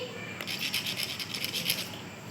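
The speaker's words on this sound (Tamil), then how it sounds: "அந்த கல்லை நீ நல்லா தேய்." A stone being rubbed, producing a steady, close scratchy rasping with a rapid rhythmic texture for about two seconds, alone and fairly quiet.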